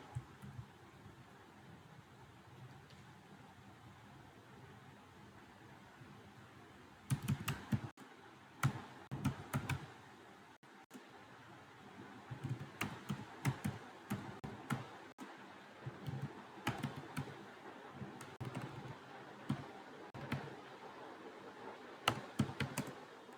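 CSS code being typed on a computer keyboard: after a quiet stretch, bursts of crisp close key clatter start, with uneven pauses between runs of rapid strokes, moderately loud over faint fan noise.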